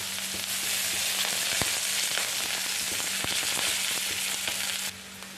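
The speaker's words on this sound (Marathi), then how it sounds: "त्याच्यात कढीपत्ता टाकायचा तो परतला गेला पाहिजे व्यवस्थित" Onion and curry leaves fry in hot oil with a dense, steady sizzle and occasional sharp crackles and pops, heard up close and without speech until the hiss suddenly drops near the end.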